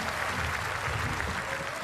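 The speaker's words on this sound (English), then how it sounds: "big round of applause" Audience applause for a magician's volunteer at a live entertainment show: a brief, dense burst of clapping from a crowd, steady and fairly loud for under two seconds.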